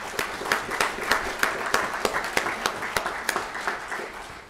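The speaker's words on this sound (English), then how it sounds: "So how about a round of applause for you?" A seated audience at a U.S. senator's address breaks into applause, a steady close wash of many hands with sharp rhythmic claps rising regularly above it.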